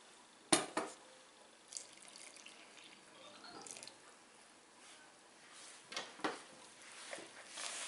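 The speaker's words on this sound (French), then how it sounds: "on va ajouter donc petit à petit l'eau" Water is added little by little to msemen dough, giving scattered soft splashes, drips and wet squelches, quiet and close, with faint pauses between pours and no voices.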